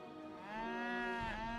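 Cattle lowing in Age of Empires 3, a single long, close moo that rises and bends in pitch near its end, heard alone without talk.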